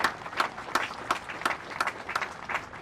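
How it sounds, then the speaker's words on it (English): Applause at a military promotion and award ceremony, a steady round of clapping from a seated audience with pulsing, regular bursts at moderate distance, no voices over it. "please join me in a round of applause for Kevin's mother"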